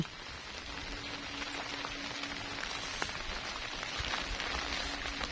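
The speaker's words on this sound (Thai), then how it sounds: "ทั้งฝนทั้งลม" Steady rain with wind patters on a hut roof during a storm, a continuous hiss with occasional louder drops and a faint background rush.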